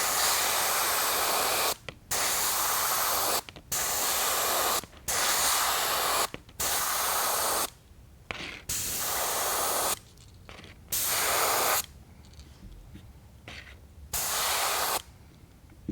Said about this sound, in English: We'll just kind of blend it down the side, rotate our bait. Let some overspray go down there and make our scale pattern.